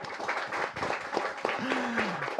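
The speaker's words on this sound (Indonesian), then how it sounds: "Tepuk tangan buat Pak Wamen" Scattered audience applause for an Indonesian vice minister at a panel event, moderate and uneven, with voices mixed in as the clapping continues.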